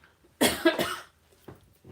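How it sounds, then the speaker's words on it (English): A single person coughs twice in quick succession, close and fairly loud, followed by a faint softer sound in a quiet room. "got my obligatory cough out of the way"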